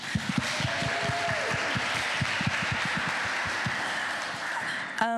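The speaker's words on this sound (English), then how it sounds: "give them a round of applause and everything" Applause from a crowd, dense and steady for about five seconds at moderate distance, with a sharp knock right at the end.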